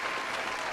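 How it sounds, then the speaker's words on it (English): A steady wash of crowd applause plays as a sound effect, many hands clapping together in a continuous, even roar at moderate volume, with no pauses or voices standing out. "I'm going to give myself a round of applause for that."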